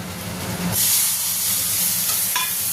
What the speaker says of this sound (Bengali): দিয়ে একটু জল অ্যাড করে দেবো